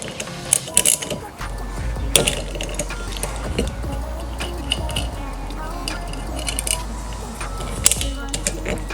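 Socket wrench ratcheting off the small 10mm nut that holds the rear wiper arm on a Subaru Impreza RS, a string of close, crisp metallic clicks with a low hum running underneath.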